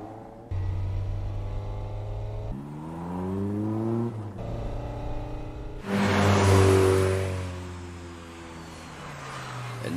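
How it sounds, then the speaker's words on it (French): A Toyota 86 arrives in a mountain street race, its engine revving hard through rising gear pulls, then roaring louder as it draws near before the note drops away. "Ne fait pas le bruit d'une 86 habituelle."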